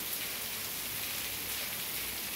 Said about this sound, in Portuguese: Gosto muito de ver a chuva cair.